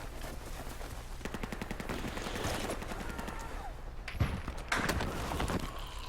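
Repeated gunfire bursts in a competitive video game match, CQS mode, crackle in quick rhythmic strings mixed with a few sharper single shots, over a steady layer of game noise.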